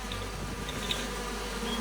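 Continuous insect drone of bees at hives in The Quinfall video game, a close, even buzz with slight wavering pitch and no voices.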